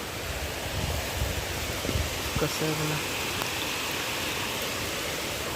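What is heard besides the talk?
heavy rain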